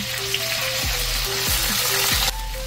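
Tofu fries in hot oil in a wok, a loud, steady crackling sizzle with a few low thuds from the pieces being moved, close up and with no talking.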